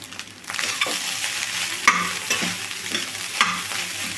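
Egg fried rice tossed quickly in a pan over high flame, with a steady frying hiss broken by several sharp scraping strokes of a spatula against the pan, close and fairly loud, no voices.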